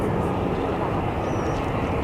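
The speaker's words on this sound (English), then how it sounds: "I can hear something else spooling for takeoff right now on that cross runway" At Zurich Kloten Airport, an aircraft on the cross runway spools up for takeoff, a steady, dense roar of jet engines heard from a distance.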